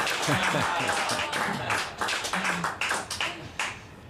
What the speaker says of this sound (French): Applaudissons tous bien fort